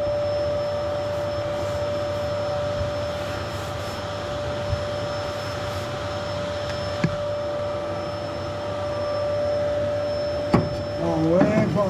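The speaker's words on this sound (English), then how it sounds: "I'm just going to vacuum off this other side brick." A vacuum cleaner drones steadily while cleaning the side brick of a Piazzetta wood-burning stove during a strip-down, a constant whine with a few knocks and a voice briefly near the end.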